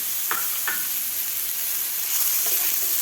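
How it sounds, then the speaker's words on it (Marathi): Garlic, ginger and tomato fry with onion for a sprouted matki bhaji, a loud continuous sizzle with a few scraping stirs near the start and end; no one speaks. "लसूण आलं आणि टोमॅटोसुद्धा आपल्याला कांद्याबरोबर व्यवस्थित भाजून घ्यायचं आहे"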